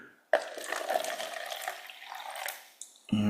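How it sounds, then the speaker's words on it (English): Hot water is poured steadily into a container in a physics lab, a continuous close, moderately loud splashing pour lasting a few seconds before tapering off. "I'm going to pour the hot water into here"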